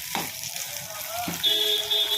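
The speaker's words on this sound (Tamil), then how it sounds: "இது கூட அந்த 2 தக்காளியும் போட்டுறேன். அதை வதங்கணும்." Two tomatoes sautéing in a hot pan give a soft, continuous sizzle heard close, with a couple of brief stirring scrapes and no talk.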